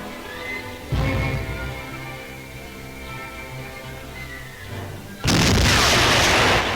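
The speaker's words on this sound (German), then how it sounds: "Die Bolschewisten melden sich mit schwerer Artillerie. Unsere Batterien erwidern." Heavy artillery fires in a WWII battlefield exchange with Soviet guns, two loud booming reports several seconds apart, the second heavier and longer, over a steady low rumble.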